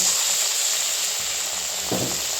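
Pumpkin flower fritters coated in gram flour batter hiss and sizzle in hot oil, a close, continuous frying sound that swells with a brief louder burst near the end.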